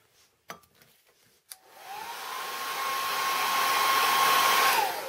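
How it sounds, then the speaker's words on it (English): A hair dryer blows on a kiln shelf being prepped with kiln wash; after a couple of sharp clicks it switches on and its whine rises to a loud, steady rush with a clear pitched tone, close by and uninterrupted. "One of the things about using hair dryers, as it warms up the shelf, the kiln wash will go on smoother"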